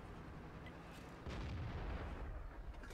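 Artillery fire lands in the World of Tanks video game, a single heavy boom with a rumbling tail that rolls on for a couple of seconds, loud and close.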